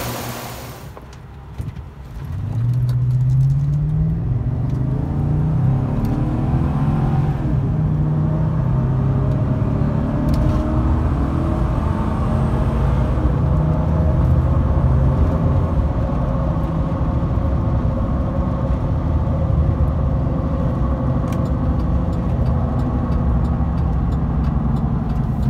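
A 2011 GMC Sierra 1500 Z71 4x4 with a 5.3 V8 and six-speed automatic pulls away, its engine rising through a smooth shift. After that the truck settles into a steady, loud cabin rumble of road and engine noise.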